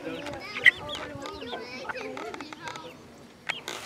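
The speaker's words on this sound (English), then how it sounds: "So there's the chickies." Chicks give a few short, high chirps amid a person's steady talking, with one sharp peep standing out near the start and another near the end.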